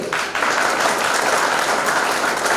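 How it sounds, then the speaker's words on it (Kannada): Loud, dense audience applause at a World Photography Day gathering of a photographers' association, sustained evenly with no one talking. "ಜೋರಾಗಿ ಚಪ್ಪಾಳೆ ತಟ್ಕೊಳ್ಳಿ."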